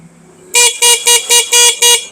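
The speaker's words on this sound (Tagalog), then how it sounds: "So, mag-start muna tayo sa stock horn." A Honda ADV160 motorcycle's stock horn honks six times in quick succession, short bright beeps close by with brief gaps, after a faint low hum.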